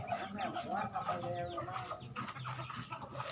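Chickens cluck and murmur close by in a short, busy burst, several birds overlapping softly.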